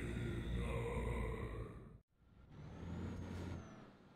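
A heavy truck in Euro Truck Simulator releases its air brakes with a loud, sharp pneumatic hiss that cuts off abruptly, followed by a softer engine rumble and a fainter second hiss.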